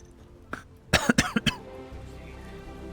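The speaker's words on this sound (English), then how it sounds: "Why am I coughing?" A burst of several sharp, close coughs comes in quick succession after one small throat sound, then quiet.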